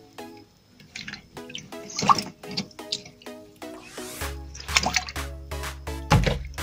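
Water sloshing and dripping while collected copper from waste acid solution is washed by hand in a batch of water, with irregular splashes, trickles and clinks, close and moderately loud.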